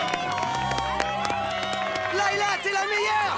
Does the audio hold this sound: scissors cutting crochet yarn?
no